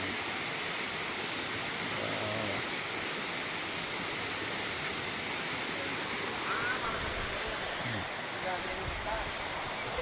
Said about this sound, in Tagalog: Malagas-gas dito sa baba yung tubig oh.